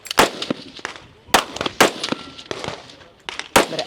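Sharp pistol shots crack out at a shooting competition, five or six loud, close reports spaced irregularly about half a second to a second apart, with faint background murmur between them.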